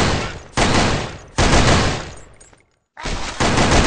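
Sprayed automatic gunfire from the online shooter Sudden Attack comes in loud sustained bursts, broken by short pauses and one near-silent gap before firing resumes.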